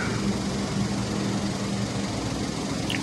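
An engine idles steadily, a low continuous rumble with a faint mechanical hum, moderately quiet and unbroken throughout.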